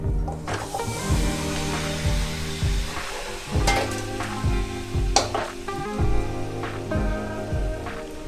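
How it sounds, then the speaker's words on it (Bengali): Tomatoes going into a hot wok for homemade tomato sauce, sizzling and spitting steadily with repeated scraping and stirring knocks, close and fairly loud with no talk. "এরপর কড়াইয়ে টমেটোগুলো দিয়ে দেবো।"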